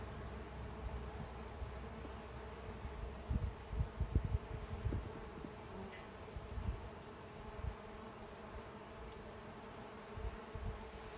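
Honeybees buzzing steadily around open nucleus hives, a soft continuous drone outdoors with faint rustling and occasional louder passes nearby.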